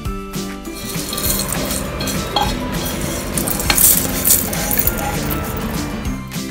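Crisp roasted masala spices for samosa filling are stirred and scraped in a metal pan, a continuous close rasping with occasional light clinks, loud and largely alone.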